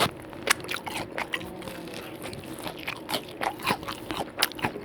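Crisp crunching bites up close into a Burger King Whopper, a rapid series of sharp crackles and chews, fairly quiet with no talking.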